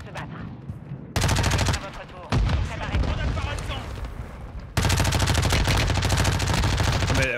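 Gunfire in the video game Warzone, long bursts of rapid automatic shots rattling loudly, broken by short gaps, with someone talking over parts of it.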